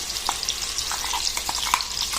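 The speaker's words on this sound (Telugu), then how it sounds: "ఒకసారి అంతా వంకాయలకంతా మసాలా పట్టేట్లాగా మనం కలుపుకొని పెట్టుకోవాలి" A spoon stirs ground masala through stuffed eggplant curry frying in a pan, the steady sizzle broken by soft scraping strokes and small pops, close and continuous.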